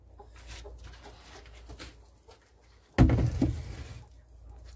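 Backyard hens in their coop give soft, scattered clucks and shuffles, then a louder burst of close clucking and fluttering noise breaks out partway through.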